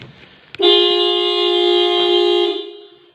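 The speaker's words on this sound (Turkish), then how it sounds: "bu şekilde korna çalmaya başlayacak" A single loud, sustained Renault Fluence car alarm horn blares for about two seconds, steady and close, then cuts off.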